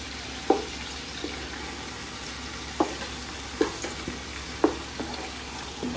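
Ginger garlic paste frying in a pan, a steady low sizzle broken by several sharp clinks of a spoon or spatula against the pan.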